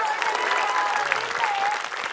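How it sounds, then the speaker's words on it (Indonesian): Studio audience applauds a contestant on an Indonesian riddle quiz show: a short, dense burst of clapping that stays steady and fairly close for about two seconds, with a voice speaking over it. "kita kasih tepuk tangan lagi untuk siapa?"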